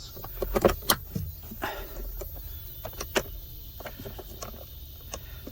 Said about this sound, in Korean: 딱 소리가 날 때까지 조립해 주시면 되겠습니다.